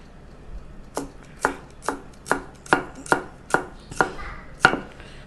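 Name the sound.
chopping red onions with a knife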